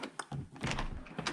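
A door lock cylinder clicks shut and reopens with a key, giving a few quick close mechanical clicks and thunks over faint room noise.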